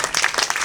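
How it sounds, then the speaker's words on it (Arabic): An audience applauds at a theatre performance at a festival in Djerba. A brief burst of brisk, scattered hand clapping fills the room. "تصفيق عليه."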